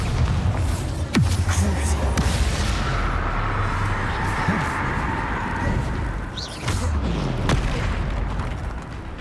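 Repeated Bombarda spell explosions in Hogwarts Legacy, deep booming blasts with sharp cracks over a dense, continuous rumble of game effects, loud and close, with a voice speaking in places.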